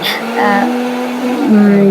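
A blender whirs with a steady motor hum as someone speaks over it, briefly and up close, while making mayonnaise.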